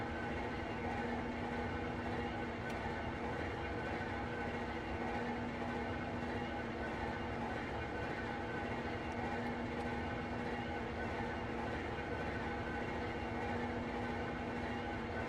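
A CSX heavy haul locomotive runs in Train Simulator World, giving a continuous, even rumble and drone of engine and rolling stock with a steady low hum throughout and no talk.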